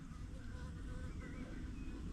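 Honeybees swarming into a building buzz in a dense, continuous drone that stays close and steady throughout.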